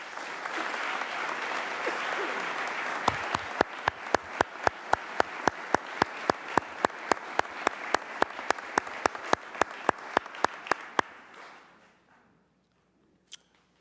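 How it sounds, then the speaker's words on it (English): Dense applause from a large audience at a mayor's budget address rolls on for about eleven seconds, with a single louder pair of hands clapping in a steady rhythm through the middle before everything cuts to near silence. "Let us give them a huge round of applause"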